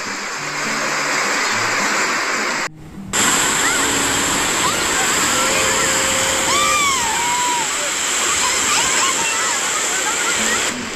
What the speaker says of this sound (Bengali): বাপরে কি জোরে বৃষ্টি শুরু হলো দেখো বন্ধুরা, বৃষ্টির আওয়াজ তো শুনতেই পাচ্ছ